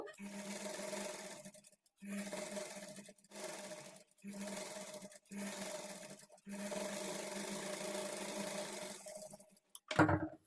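A sewing machine stitching the back part of a lining blouse runs in several bursts of steady motorized whirring separated by short pauses, ending with a brief clatter; no talk is heard.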